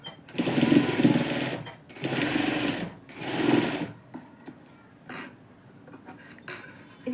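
A sewing machine stitches a one-month baby frock in three quick motor bursts, followed by lighter clicks and handling of the fabric.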